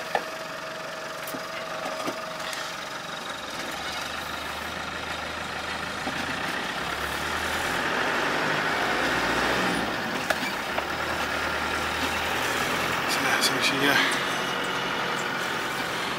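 A 1988 Land Rover 110 with a 300Tdi diesel engine is driven with the window down, a steady low drone that swells a little midway, with occasional clicks and someone talking over it.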